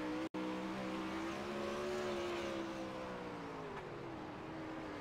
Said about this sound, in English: Oh, you could hear he was even off the gas too.